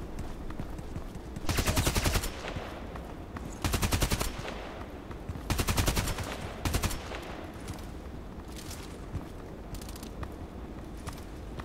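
Bursts of automatic gunfire come from a Contract Wars match, with several rapid volleys that start and stop over the span. Quieter scattered shots and ambient game noise fill the gaps, with no talk.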